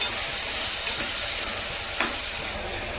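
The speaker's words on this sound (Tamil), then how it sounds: "இப்போ நல்லா வதக்கிக்கலாங்க. தக்காளி மசிஞ்சு வர வரைக்கும் வதக்கிக்கலாம்." Tomatoes with turmeric and salt sautéing in a pan for Tamil dal rice, a steady close sizzle with two brief scraping stirs, no talk.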